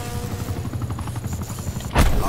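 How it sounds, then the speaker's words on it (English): Attack helicopter in the Black Ops 4 beta, a steady rotor throb with layered game noise beneath, ending in a sudden loud burst near the end. "That's the second attack helicopter in one life."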